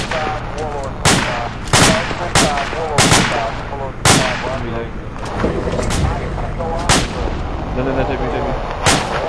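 Bursts of gunfire in the video game ARMA 2 crack out repeatedly in sharp, loud reports spaced about every half second to second, some in rapid bursts, while players talk over the shooting.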